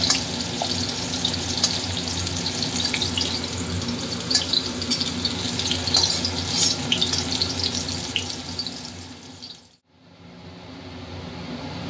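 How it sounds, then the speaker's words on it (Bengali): New potatoes frying in oil in a pan for a cauliflower and koi fish curry, a dense, steady sizzle that holds loud and even before dropping out briefly near the end. "এবার আলুটা ভাজবো।"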